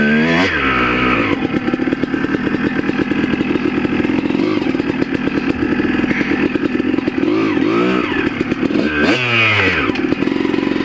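A motorcycle is ridden, its engine running loud and close throughout with a rapid, throbbing beat and several swells of revving as the throttle rises and falls.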